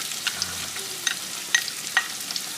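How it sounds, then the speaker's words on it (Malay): Steady sizzling of ground chili paste frying in a pan with crisp fried onions, with occasional scraping stirs and small pops, close and continuous. "Sekarang ni kita akan masuk cili kisar 4 sudu."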